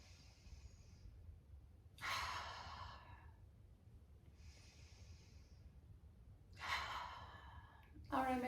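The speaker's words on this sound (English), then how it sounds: "Open mouth, exhale, drop." Slow breaths during a hatha yoga flow, with soft inhales followed by audible open-mouth exhales that come twice, near and gentle, under a quiet room.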